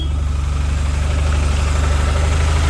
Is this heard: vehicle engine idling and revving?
yes